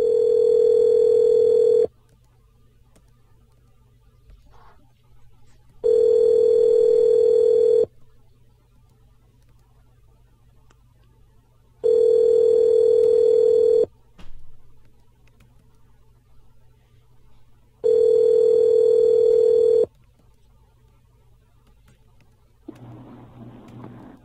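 Ringback tone on an outgoing prank call to a dog and cat grooming business: four long, loud, steady rings, each about two seconds, evenly spaced with quiet gaps, and no talking over them.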